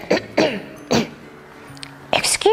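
A storyteller voices a cricket's cough: several short, breathy coughs in a row, a pause, then a final throaty cough-like burst, close and clear with no other sound behind.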